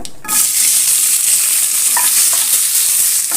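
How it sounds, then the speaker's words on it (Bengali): Mustard seeds sizzling and popping in hot oil in a home kitchen pan, a loud, dense continuous fry hiss heard up close, with no talking. "সরিষা যখন ছটফট করে লাফালাফি শুরু করবে, তখন কাঁচা টমেটোগুলো দিয়ে দিতে হবে।"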